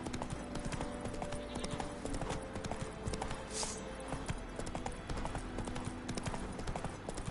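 Roach, Geralt's horse in The Witcher 3, gallops in a steady rhythm of loud hoofbeats, with faint game ambience behind and a brief whinny-like sound near the middle.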